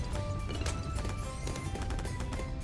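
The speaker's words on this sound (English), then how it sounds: "you hear that noise, that sounds like glass breaking or jar breaking. That's the ceramics." Ceramic balloons breaking with glassy, jar-like shatters in the tower defense game Bloons TD6, a dense, continuous rapid clatter of cracks and pops layered over steady game music and effects.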